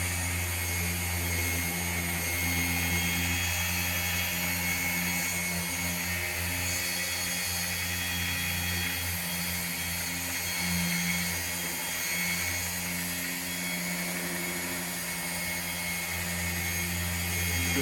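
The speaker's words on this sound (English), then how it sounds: "So you can put a little bit of force down through the top of the polisher" A power polisher works compound onto a car headlight, with its motor holding a steady, continuous whine and hum close by and pressure bearing down throughout, with no talk.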